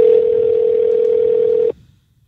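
Telephone dial tone heard while placing a call back, a steady loud single-pitched tone that holds for under two seconds and then stops abruptly, with no talking.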